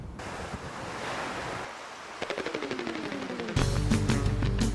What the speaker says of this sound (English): Surf's up at the coast. And if the waves are breaking just right